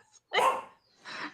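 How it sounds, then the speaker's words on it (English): A dog barks twice, fairly close and loud: a sharp first bark, a pause, then a softer second one. "I have a dog barking."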